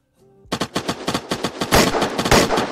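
Rapid gunfire in the video game Arid, a dense run of shots beginning after a brief quiet lead-in and growing louder and more continuous toward the end.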